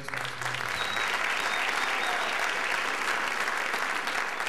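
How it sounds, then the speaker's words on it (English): Steady, dense applause from an audience at a high school holiday choral concert, sustained at an even level for the whole stretch without a break. "So if we can give those guys a round of applause."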